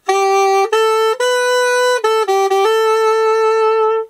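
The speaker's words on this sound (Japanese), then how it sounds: "まあ、ベノーバこんな感じの音です" A Yamaha Venova, a small plastic reed wind instrument, plays a short phrase of clear, sustained notes, stepping between pitches with brief breaks, ending on a long held tone.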